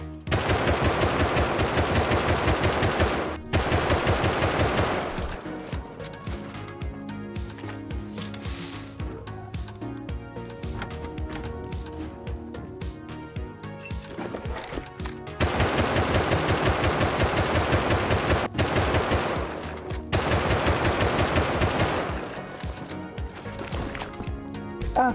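Explosive rounds in Rust hammer a player's own house in long sustained bursts of rapid automatic fire, loud and close, with brief gaps where the shooting stops and starts again.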